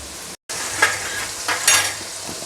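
Tomato and spices for a fish gravy fry in oil, a soft continuous sizzle broken by a brief dropout and several short louder bursts of stirring or spatula scrapes, no talking.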